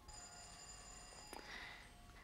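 A telephone bell ringing indoors, a faint steady ring with a brief louder clatter midway and a sharp knock at the end.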